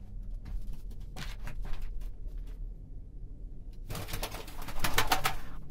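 Pigeons in a coop coo in low, soft murmurs, joined midway by a loud burst of rustling and fluttering wings close by, with no talking.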